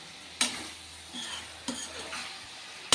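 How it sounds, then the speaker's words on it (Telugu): A spoon scrapes and stirs chicken curry masala with tomatoes in a pan over gentle sizzling, with a few distinct clinks against the pan spaced across the moment. "ఇవన్నీ వేసి మంచిగా కలుపుదాం"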